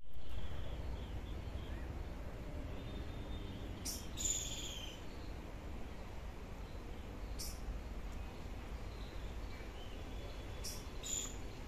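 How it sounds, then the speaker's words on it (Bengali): Babbler birds give a few short, faint, distant calls at intervals over a constant hum of insects at Chintamoni Kar Bird Sanctuary in Kolkata. "ও ছাতার পাখি, ছাতার পাখি, এগুলো ছাতার পাখি"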